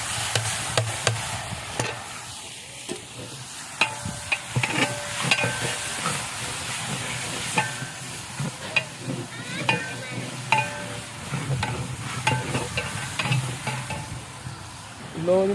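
Spice masala fries in a large cooking pot, a constant sizzle with frequent sharp scrapes and clanks as a ladle stirs it, close and busy throughout.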